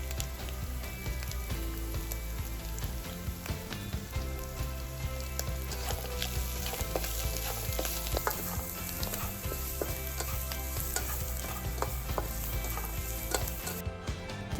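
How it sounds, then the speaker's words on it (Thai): Onion, dried chili and parsley stir-fried in a pan make a continuous crackling sizzle with frequent sharp clicks and utensil taps, fairly quiet and unbroken by speech. "ผัดให้พริกออกกลิ่นหอมแล้วใส่พาสลีย์ลงไป"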